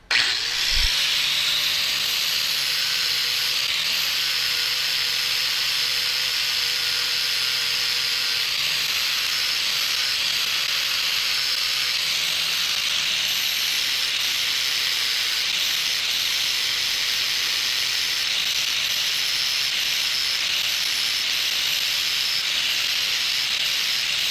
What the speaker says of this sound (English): let me see if I can grind that booger weld off